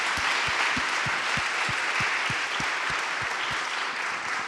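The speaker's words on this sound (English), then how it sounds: "We should give them a big round of applause." An audience at an alumni reunion applauds the speakers, a dense, steady wash of clapping from a crowd indoors with a few distinct louder claps in the foreground, sustained throughout.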